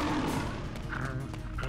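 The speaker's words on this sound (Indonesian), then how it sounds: "di padang rumput muncul seekor harimau yang mengejar kawanan kerbau hingga terpencar." A tiger roars in a grassland while chasing a herd of water buffalo, giving a deep rumbling growl at moderate volume with a few sharper cries over it.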